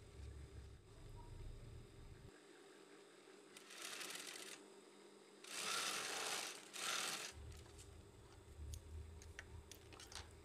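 A sewing machine stitches fabric for drawstring shorts in bursts of rapid mechanical whirring, starting and stopping over a low steady background hum, fairly close.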